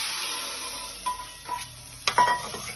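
Oil hisses and sizzles steadily as tempering spices and vadagam fry, a spoon stirring and clinking against the pan a few times, close by, while making a banana flower and carrot gravy.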